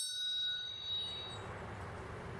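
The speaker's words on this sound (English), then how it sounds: "And it would ring the little bell with the arm." A tiny bell struck by a solenoid-driven arm salvaged from an office copier gives a clear, bright ding, followed by a fainter second tap that rings out and fades against a low background rumble.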